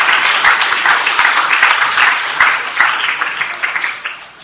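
Loud, dense applause rises from the audience at a certificate distribution ceremony in Aurangabad, India, holding steady for several seconds before starting to taper off near the end.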